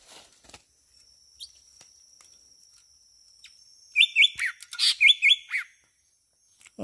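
Green leafbirds (cucak ijo) in a tropical forest give a run of sharp, high chirps and short whistled calls in quick bursts, close and clear against a quiet background after a few faint earlier notes.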